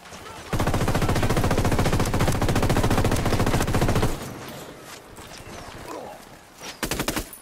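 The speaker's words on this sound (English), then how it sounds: "Bitch is shooting me" Sustained automatic gunfire roars loud and close in a video game for several seconds, then drops to quieter scattered shots before a final short burst.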